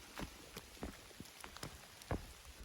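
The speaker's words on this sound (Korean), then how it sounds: "이제 여기는 눈이 아니라 비가 내리고 있습니다." Rain falling on a wet descent of Gyeryongsan mountain in Korea, scattered faint drops tapping nearby surfaces in irregular soft ticks over a quiet hiss.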